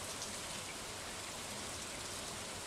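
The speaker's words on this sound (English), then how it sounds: "for now, since it's raining" Steady rain pours in the farming game Stardew Valley, a dense, even hiss of falling drops that holds at a constant level throughout with no voices.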